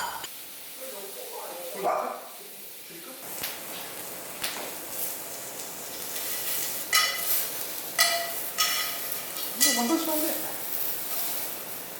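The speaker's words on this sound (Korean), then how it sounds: "가지는 프라이팬 자체의 열로 좀만 더 구울게요" Eggplant dipped in egg white fries in a hot pan, giving a low, steady sizzle with occasional clinks of utensils as people talk over it.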